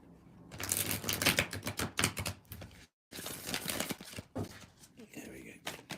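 Tarot cards shuffled from a deck and drawn, giving a busy run of crisp riffling and slapping clicks with a short silent break, then more card handling, close to the microphone with no talk.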